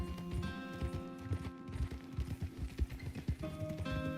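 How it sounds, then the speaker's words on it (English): A ridden horse's hooves clip-clop in a steady, fairly close rhythm, with faint tonal music underneath. "riding this horse for 50 miles"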